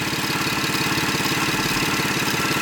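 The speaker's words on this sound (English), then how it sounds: "I'll just let y'all hear that idle." A Cadillac CTS coupe engine idles smoothly up close, a steady, even pulsing hum with no variation before it cuts off abruptly.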